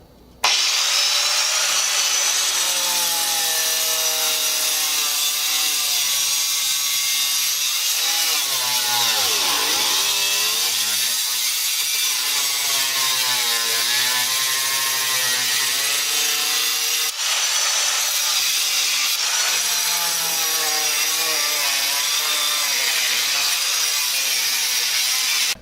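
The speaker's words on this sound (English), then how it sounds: "So I am going to use an angle grinder to cut it out" An angle grinder cutting through material around a Kenmore stovetop opening to make a new stove fit, a loud continuous whining grind with shifting pitch that dips briefly mid-cut, running steadily for the whole stretch with no talk.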